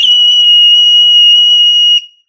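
A handheld personal shrill alarm, sold as a pepper spray alternative, gives one loud, steady piercing tone held for about two seconds while its button is pressed, then cuts off abruptly.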